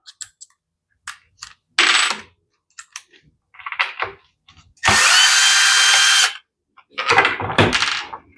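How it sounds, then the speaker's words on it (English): A power drill backs a Torx screw out of a Stihl leaf blower housing in a few short whirring bursts, one sustained run, then more bursts, with small clicks and handling noises between them. "We've got one more Torx to take off."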